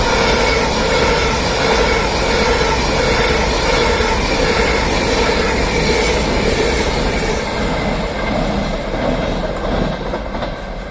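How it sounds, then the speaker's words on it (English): An Avanti West Coast class 390 express train passes through Crewe station, a loud, continuous close rush of wheels and rail noise with faint clickety-clack, easing slightly at the end. "Also passing now is the Avanti West Coast."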